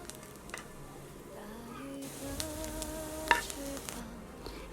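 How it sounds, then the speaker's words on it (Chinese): Steamed buns with egg stir-fried in cooking oil in a wok, with a steady soft sizzle and occasional scraping stirs and faint clinks, moderately close, no speech. "再调入一些食用油， 翻炒均匀后就可以出锅啦"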